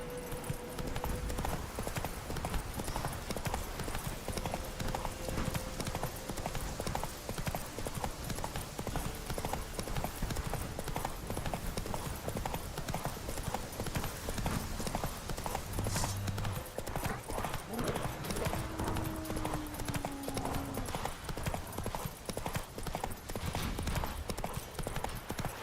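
A horse gallops in The Witcher 3 video game, its rapid hoofbeats pounding continuously and loudly throughout, with an occasional neigh over the steady rhythm.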